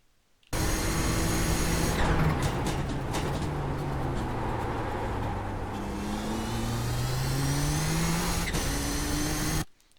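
A race car engine held at full throttle on the Nürburgring Grand Prix circuit in the iRacing simulator, a loud sustained engine drone with rising and falling pitch as gears change, starting abruptly and cutting off near the end.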